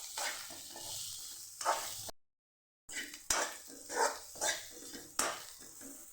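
Turmeric and fenugreek seeds fry in a pan with bursts of sizzling and the scrape of a spoon stirring, close and fairly quiet, broken by a brief silent gap.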